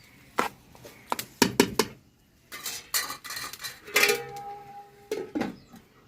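Metal clatters near a pot of chicken curry as its lid is put on: a quick series of sharp clinks and knocks, then a longer scraping clatter and a ringing metallic tone, all close by.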